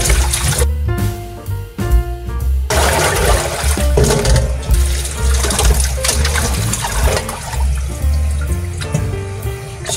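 Cow skin for balbacua gets washed in a sink under running water, with steady splashing, gushing and trickling and occasional clatter from handling close by.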